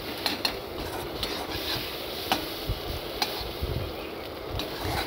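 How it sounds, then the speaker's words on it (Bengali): Egg scrambling in a hot pan in a village kitchen, with a low constant sizzle and frequent sharp metallic ticks and scrapes of a spatula stirring it, close by, no voices. "ডিম দেওয়ার পর বারবার নাড়তে হবে, ততক্ষণ নাড়তে হবে যতক্ষণ না ঝুরঝুর অবস্থায় আসে"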